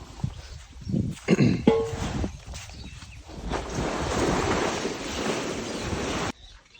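Strong wind roars and buffets the microphone in a steady rumbling rush, preceded by a few brief knocks and handling noises.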